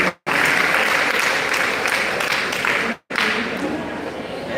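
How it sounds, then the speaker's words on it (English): Sustained audience applause at the official closing ceremony of GEP 3 in Kano State, loud and dense with two brief cuts, plus faint talk mixed in. "Please, another round of applause for you."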